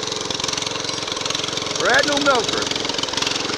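A Case 222 garden tractor idles at a 2015 New Milford Fair stoneboat pull, its small engine chugging in a fast, steady rhythm up close while someone talks over it.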